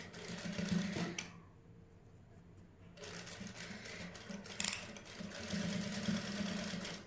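A sewing machine slowly stitches a lace neckline in short runs, its rapid mechanical chatter stopping for a pause and then resuming, fairly quiet and close.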